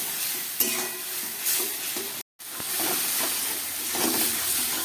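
Spice paste cooks in a pan for a fish curry, hissing and sizzling loudly as a spoon stirs it in repeated scraping strokes. A brief gap of silence falls near the middle, then the frying continues, with no voices.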